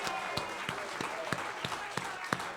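Sharp individual claps ring out at a regular, spaced rhythm in a church after a graduation speech, over a soft background hiss with a faint voice nearby.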